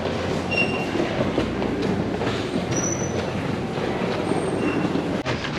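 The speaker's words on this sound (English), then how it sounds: "so like there's a train on both tracks." A passing commuter train rumbles steadily along the tracks near a GO station, with faint wheel squeals and one sharp clank near the end, and no talking.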